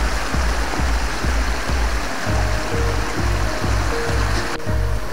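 A jungle stream flows with a loud, steady rush of water heard up close. A regular low thumping repeats beneath it, and no voices are heard.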